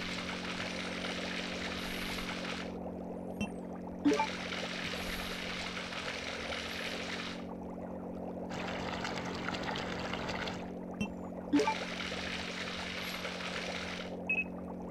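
Oil drains from a system in the video game Resident Evil Code Veronica X, a steady rushing, pouring flow that starts and stops in several long bursts over a constant low mechanical hum.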